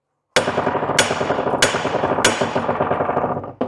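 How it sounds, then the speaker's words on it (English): A hammer strikes the yoke of a commercial truck U-joint to free a bearing cap, giving four sharp, loud metallic blows about two-thirds of a second apart, each ringing briefly, then a fifth hit at the end. "Simply hit the yoke."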